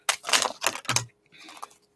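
Tarot cards shuffled off camera, several quick dry riffling bursts in close succession, then a short pause and a softer final flutter, near and without talk.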